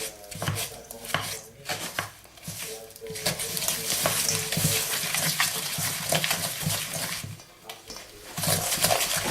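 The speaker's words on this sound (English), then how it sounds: "So just beat it in, like, I find it easy using the back of the wooden spoon" Butter and sugar beaten together with the back of a wooden spoon in a bowl for dairy-free chocolate and raisin cookies, giving a steady run of close, dense scraping and thudding strokes.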